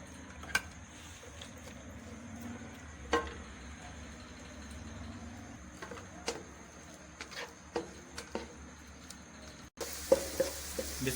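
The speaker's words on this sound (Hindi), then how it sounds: "ऑयल हमारा गर्म हो गया है, इसमें प्याज डाल लेंगे" Chopped onions frying in hot oil in a kadai for chicken salan, a low steady sizzle with occasional sharp pops and crackles, then louder, brighter spitting near the end; no talk.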